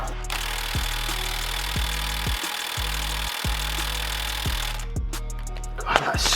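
A socket wrench works on a stuck bolt on the rear beam of a Ford Escort Cosworth, giving a steady run of repeated mechanical grinding pulses with brief pauses, loud and close throughout.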